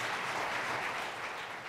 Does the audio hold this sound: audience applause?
yes